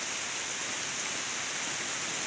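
Steady, continuous typhoon rainfall hisses evenly throughout, a dense broadband wash with no breaks and no voices.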